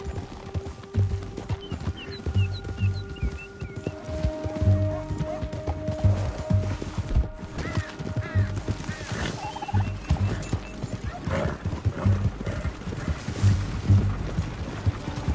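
A horse gallops steadily in Red Dead Redemption 2, its hooves beating a rhythmic, close clip-clop for the whole stretch, with faint ambient game sounds alongside.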